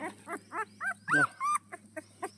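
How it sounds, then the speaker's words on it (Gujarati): A puppy lets out a quick run of high, yelping barks and whines, close and fairly loud. "આ ગલુડો છે કૂતરો છે કૂતરો"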